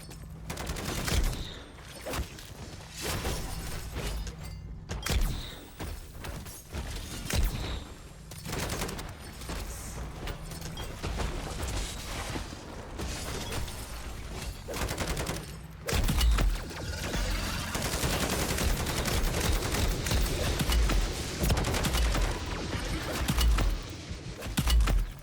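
A Wunderwaffe and a sentry gun fire during a fight in MW3 Zombies, a long run of rapid gunfire and crackling electric bursts with heavy thumps and impacts that build louder toward the end.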